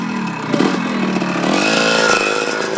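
An old enduro motorcycle engine buzzes loud and close, a raspy two-stroke-like drone that rises in pitch as it revs up partway through.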